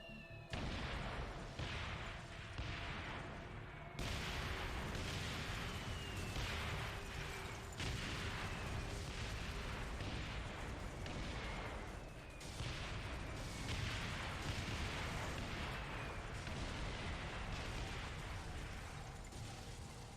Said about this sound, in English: The AC-130 is clear for airstrikes.